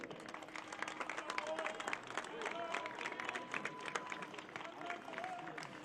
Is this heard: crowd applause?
yes